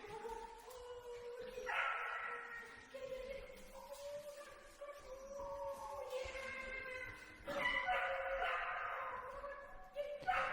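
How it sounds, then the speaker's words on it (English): A dog barks and yips repeatedly from another room, slightly muffled and distant, in bursts over a quiet background. "That's another dog in the other room being jealous of us playing."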